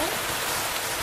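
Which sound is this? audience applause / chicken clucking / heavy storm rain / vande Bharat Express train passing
heavy storm rain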